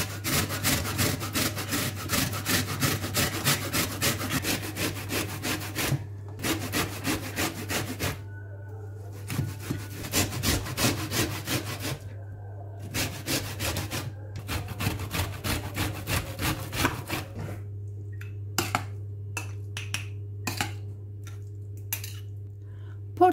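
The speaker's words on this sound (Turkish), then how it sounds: "Portakalları kabuklarıyla beraber rendeleyeceğim. Rendenin ince tarafıyla bütün olacak şekilde rendeliyorum." Whole oranges with their peel rubbed against the fine side of a grater, rhythmic rasping strokes in several bursts with short pauses between, close and fairly loud over a steady low hum.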